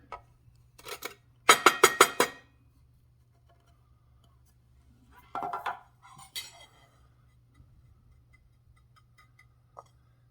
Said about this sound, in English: I'm going to take the lid off